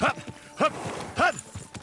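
Horse hooves clip-clop in a quick rhythm in the video game Kingdom Come: Deliverance II, with a voice speaking over them, close and clear.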